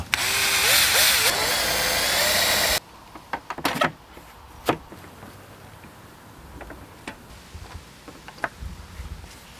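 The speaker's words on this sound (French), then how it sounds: "Ensuite, visse fermement de nouveau le profilé support." A cordless drill drives screws into a WPC composite decking support profile, giving a loud steady whir for about three seconds, then stopping, followed by scattered clicks and knocks of handling the parts.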